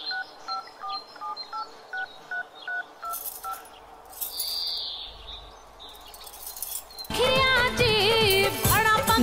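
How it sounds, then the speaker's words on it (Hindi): A telephone number is keyed in with a run of short, evenly spaced beeps, about a dozen tones. Birds chirp faintly behind, and then people talk loudly. "ऐसा करते हैं फोन ही लगा लेते हैं।"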